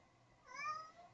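A pet cat gives a single soft, faint meow, rising and falling over about half a second against a quiet background.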